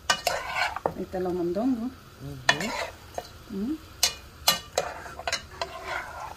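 Tripe and pig trotter stew being stirred in a pot, Dominican style, with repeated scraping and clinking of a spoon against the pot, close and fairly loud, while a person talks briefly in between.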